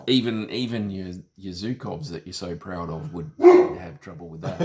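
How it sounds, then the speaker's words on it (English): A guard dog barks a few times somewhere in the background, fairly faint and intermittent beneath a man's steady conversational speech. "Apologies for the guard dog."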